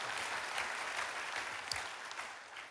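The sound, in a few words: church congregation applauding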